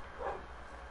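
A dog in the Minecraft video game gives one short whimpering yelp over a steady low background hum.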